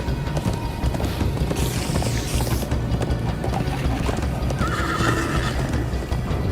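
A horse gallops in Minecraft Story Mode, hooves drumming in a fast steady rhythm close by, with a high whinny breaking through partway along.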